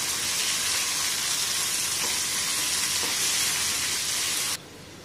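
Onion fries in a pan until golden brown, a loud, dense, unbroken sizzle close up that cuts off abruptly near the end.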